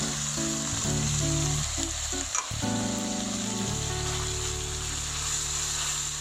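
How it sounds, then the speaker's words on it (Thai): Long beans with chili paste and fish balls being stir-fried in a pan, giving a steady close sizzle with occasional clatters of stirring and a brief knock partway through. "แล้วก็ผัดคลุกเคล้าทั้งหมดให้เข้ากันเลยนะครับ"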